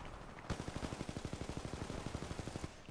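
An SMG fires in Titanfall 2 as one long burst of rapid, evenly spaced shots that starts abruptly and runs for about two seconds, close and sharp, with no talk over it.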